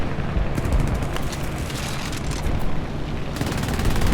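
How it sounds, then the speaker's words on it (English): Gunfire in War Thunder aircraft combat, rapid machine-gun bursts crackling over a heavy rumbling roar of engines and booms, loud and continuous with no talk. "Somebody shooting."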